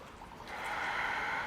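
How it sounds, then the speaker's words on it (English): One full, deep breath taken during a yoga session, a soft airy inhale that swells after a brief pause and holds steady, quiet and close. "We'll take one more breath, full deep breath."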